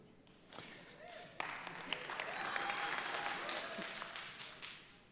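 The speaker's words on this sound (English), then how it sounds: "I didn't want applause for that" An audience claps and applauds at a TEDx talk in Redding, the applause rising after a sharp onset and sustaining as a steady broad wash of many hands throughout, fairly close and moderately loud.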